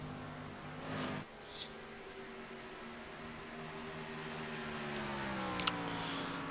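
A race car in an Xfinity Series stock car racing video game runs a qualifying lap, its engine a steady droning whine that shifts pitch gradually, moderately faint and alone.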